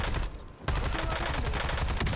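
Rapid gunfire in the Warzone video game, dense automatic bursts close and loud, with a brief lull before the firing resumes steadily.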